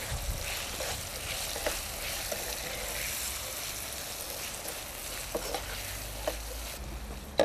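Potatoes sizzle and fry in a pan while being stirred, with a steady crackling hiss and occasional scraping clinks of the spoon, close and moderately loud.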